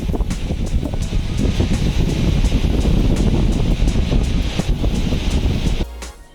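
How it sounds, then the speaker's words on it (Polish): A steady, broad roar of Baltic Sea surf heard from a seaside forest at Pogorzelica, with wind buffeting the microphone, continuous throughout before cutting off abruptly near the end. "W tle słychać szum fal"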